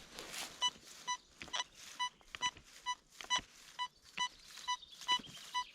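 A metal detector gives a very weak target signal: a series of short, faint, high electronic beeps repeating irregularly over soft rustling and handling noise.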